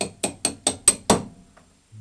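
Sharp metal hammer blows on a punch driving a seized bolt out of a VAZ 2110 suspension, six evenly spaced ringing strikes close up, the last one loudest, then quiet.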